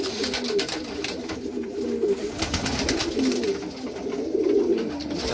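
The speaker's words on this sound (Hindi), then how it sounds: "देखो भाई, सब कबूतर दाना खा रहे हैं," Pigeons coo steadily at close range, soft rolling calls repeating one after another while the birds feed on grain, with no voices over them.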